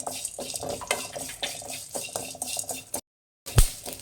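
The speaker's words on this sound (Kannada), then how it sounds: "ಇದು ಅಷ್ಟೇ ಮೀಡಿಯಮ್ ಫ್ಲೇಮಲ್ಲಿಟ್ಟು ಫ್ರೈ ಮಾಡಿ" A metal spoon stirs and scrapes through curry leaves and poppy seeds frying in a pan over medium flame, making close, irregular clinks and rustles, then a brief silence and a final clatter.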